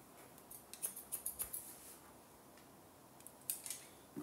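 Scissors cutting a man's hair at home, a quick run of about eight crisp close snips followed by a pause and a few more cuts, with no voices.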